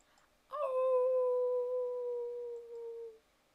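A single wolf howl heard faintly in the distance as a sound effect, rising and holding a long, steady, mournful tone for about two and a half seconds before fading.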